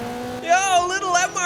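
A Toyota MR2 GT in Forza Horizon 4 revs up from a low idle into a rising, buzzy engine whine that wavers as the throttle changes.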